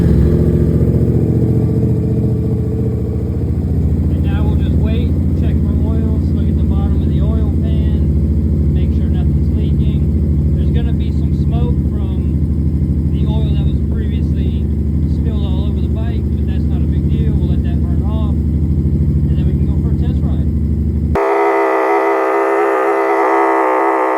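A Yamaha FZ-07 motorcycle engine after an oil pan replacement, running steadily up close and loud, with a continuous low rumble and faint rattles on top, cutting off near the end.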